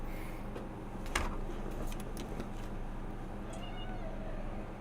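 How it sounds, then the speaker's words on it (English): A cat meows softly a few times against quiet room noise, with a brief clearer cry near the start; no one talks. "I don't know if you could hear my cat meowing."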